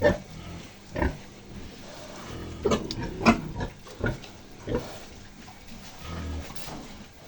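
Several short piglet grunts come in bursts, some close and loud, with a low snuffling rumble between them.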